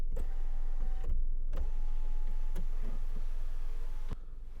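Electric tilt-and-slide sunroof of a 2008 Toyota RAV4 2.0 XT-R running inside the cabin, a steady close motor whir with clicks that stops abruptly near the end.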